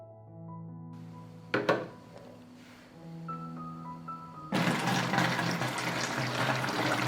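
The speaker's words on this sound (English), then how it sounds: "now I will fill the bottle with water" Water runs into a plastic bottle, starting as faint trickling and clinks, then turning into a loud, steady gushing stream for the last few seconds.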